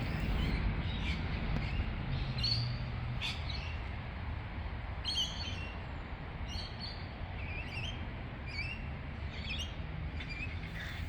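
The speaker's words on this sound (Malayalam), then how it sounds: "കിളികളുടെ ആ ഒരു ഒച്ചപ്പാടും ബഹളം മാത്രമേ ഉള്ളൂ." Birds in a Bendigo park, crows among them, chirp and call in scattered bursts over a steady low background rumble, heard from a short distance and fairly soft.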